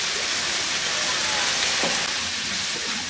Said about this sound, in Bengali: মিশাই মিনিট খানেক ভেজে নিব আমি, যাতে শাকের মধ্যে এই রসুন আদাগুলো ফ্লেভারটা যায়।